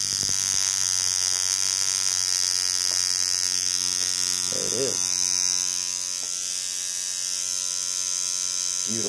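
A rotary tattoo machine runs continuously close by with a steady high buzzing whine, its pitch shifting slightly partway through, and a brief voice heard midway.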